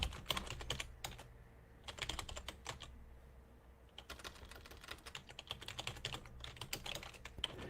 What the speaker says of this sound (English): Here I'm typing this out.